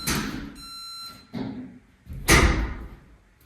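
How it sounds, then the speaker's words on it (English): A reverse backup beeper on a Bobcat Toolcat utility vehicle fitted with a custom LED bumper gives one steady electronic tone lasting about half a second, close by, between thumps and clunks of machinery. "So anytime you put it in reverse, these backup lights come on, and also that beeping."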